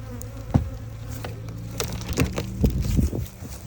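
Honeybees buzz around a newly installed hive at an apiary, a close, uneven droning hum mixed with knocks and clatters of wooden hive parts being handled.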